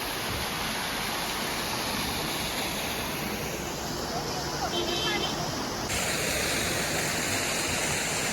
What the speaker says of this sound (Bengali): এই প্রথমবার ঝর্ণা, মাই গড, জাস্ট দেখুন ঝর্ণাটা